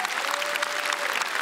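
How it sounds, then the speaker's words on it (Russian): A comedy club audience applauds, a dense, even wash of clapping that carries on steadily through the whole moment. "Сергей Корякин, ваши аплодисменты."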